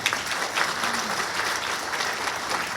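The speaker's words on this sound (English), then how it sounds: "Can we give her a round of applause to welcome her?" An audience claps steadily throughout, a dense continuous wash of applause from a crowd.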